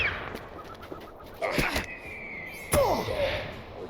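A bird is fought in the online game LOTRO. Quick whacks and sharp hits mix with bird-like chirps and swooping cries, moderately loud over quiet ambience.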